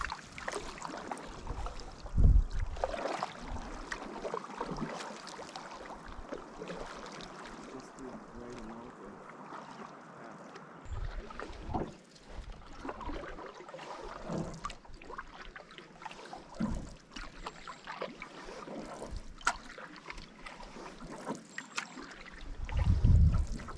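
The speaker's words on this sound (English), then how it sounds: "We're currently paddling down a stream to get into a lake." A canoe glides down a stream toward a lake with soft, irregular paddle splashes and strokes over light wind and water ambience, and voices talk intermittently nearby.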